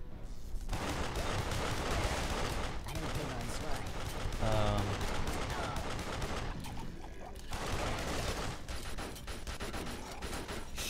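Gunfire crackles in the video game Duke Nukem Forever as a dense, continuous barrage mixed with game noise, running at moderate level under occasional talk.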